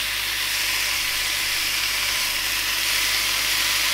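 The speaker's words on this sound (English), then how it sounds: "So I'll stick the prosciutto on and get it nice and crispy." Prosciutto slices sizzle in a hot frying pan, giving a steady, close, bright hiss that runs unbroken throughout with no voices.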